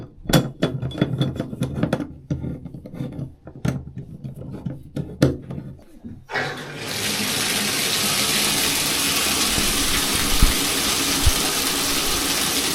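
Water from a bathtub shower rushing into the tub drain, starting after several seconds of sharp knocks and scraping, then a steady, loud hiss that continues to the end.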